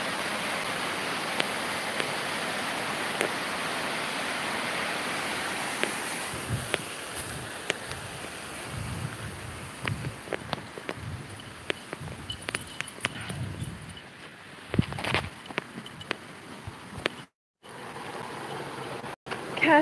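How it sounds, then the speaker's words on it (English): A small man-made cascade pours from a culvert down a slope beside a hiking trail. The rushing water forms a steady mid-distance wash, with scattered footsteps and knocks that grow more frequent in the later half. "here's the cascade running from the culvert"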